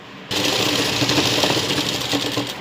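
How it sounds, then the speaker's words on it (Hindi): An electric sewing machine stitching a zip onto a lehenga, starting abruptly and running continuously with a steady rapid mechanical whir, close and alone. "आपको यहाँ पर इस तरीके से सिलाई लगा लेनी है। इस तरीके से हमें सिलाई को लॉक करना है।"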